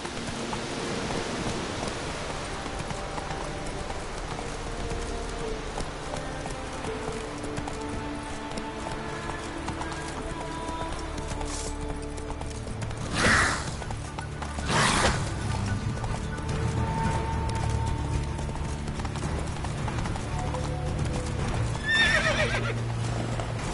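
Roach, a horse in The Witcher 3, clip-clops along with a steady hoof rhythm over falling rain, with a couple of loud whinnies in the middle and one more near the end.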